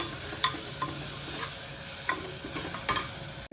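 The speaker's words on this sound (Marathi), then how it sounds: "आता ना आपण हे मसाले टाकूया" Onion, tomato and spices sauté for keema in a pan, a continuous sizzle broken by several distinct scraping stirs of a spoon, close and fairly loud, with no voices.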